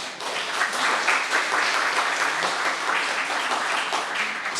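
A church congregation at Sunday worship applauds to welcome visiting members, with steady, dense clapping that holds an even level for several seconds.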